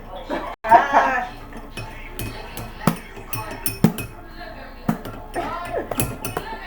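Slime mixture being stirred with the bottom of a container, giving irregular clinks and knocks against the bowl at a close distance, while people talk over it.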